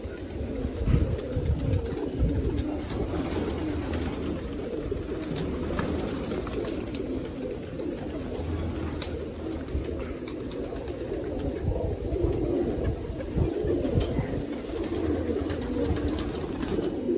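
Dobaj pigeons cooing on a rooftop, a steady low murmur of overlapping coos running continuously at moderate distance with no talk.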